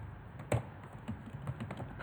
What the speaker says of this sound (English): I'm just going to type it in the box